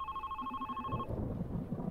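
A telephone rings in the video game The Red Strings Club, a quiet electronic double-tone trill lasting about a second, then giving way to a soft low rumble.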